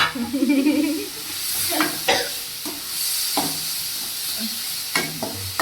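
Something sautés in a hot pan until golden, likely onions for a spicy egg thokku, with steady sizzling and hissing broken by several sharp stirring scrapes and clacks, close and fairly loud.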